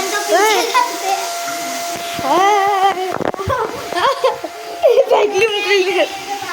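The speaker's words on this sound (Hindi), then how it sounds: "वैक्यूम क्लीनर भाग चुके हैं, वहाँ खड़े हैं जो मिल गए हैं।" A new household vacuum cleaner runs with a steady whirring hum beneath children chattering and giggling nearby.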